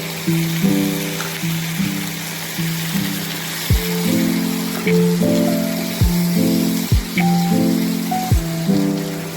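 A paste of onion, chili and cumin powder sizzles in hot oil for a vegetarian Bengali dhokar dalna, a steady crackling fry with occasional louder spits and pops, close and continuous.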